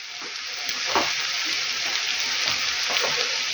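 Cabbage fries in oil in a pan with a bright, constant sizzle, punctuated by a few scrapes and clatters of stirring, heard up close with no speech.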